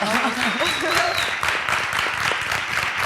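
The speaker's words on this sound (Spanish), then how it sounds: "un fuerte aplauso para ellas" Audience applause for a women's ice hockey team from Jaca, steady clapping mixed with crowd noise and voices talking over it.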